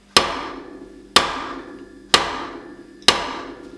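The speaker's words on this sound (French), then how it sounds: "vous prenez un outil, un petit marteau, hein, on va taper légèrement," A small hammer strikes a stuck radiator valve four times in slow, even succession, each sharp metallic tap ringing and then decaying before the next, close and clear with no talking.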